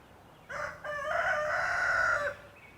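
A rooster crows loudly and close by in one long, drawn-out call, with a short clucking note just before it.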